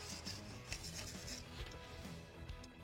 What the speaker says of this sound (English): Got the grounding bolt all cleaned off.